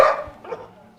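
A single dog, Cherry, barks once sharply and close, followed by a softer trailing yelp within about a second, heard on a walk outdoors.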